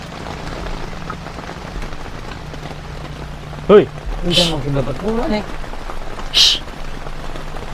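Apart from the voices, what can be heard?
heavy rain falling on tent while camping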